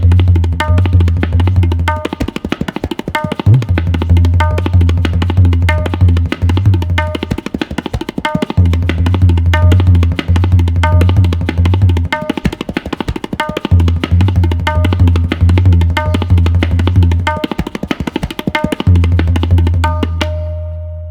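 Tabla played fast and loud, dayan strokes rattling in rapid dense rolls over deep, booming bayan resonance, close and continuous with short breaks between phrases.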